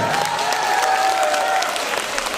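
Audience applause in a concert hall after a children's performance, a sustained wash of many hands with a faint tone lingering underneath, steady and fairly loud.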